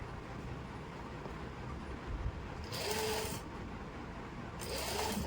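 A sewing machine stitching a suit runs in two short bursts of steady whirring, each lasting under a second, over a quiet room background.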